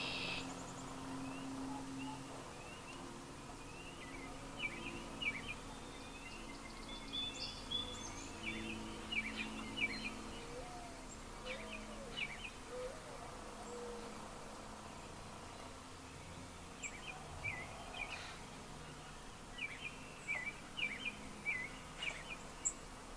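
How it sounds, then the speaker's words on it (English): Scattered pre-dawn-like bird calls and chirps from several birds at a distance during the April 8, 2024 solar eclipse, over a steady low hum, quiet and spread across the whole stretch. "a lot of the bird songs that we're hearing now are characteristic of what we'd hear pre-dawn"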